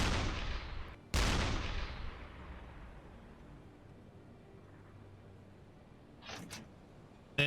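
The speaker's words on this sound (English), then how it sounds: "Let's fire off the rest of these shells" A submarine deck gun in the U-boat game UBOAT fires shells at a ship: a near, heavy boom with a long decaying rumble, then a second sharp blast a second later, followed by fainter distant impacts near the end.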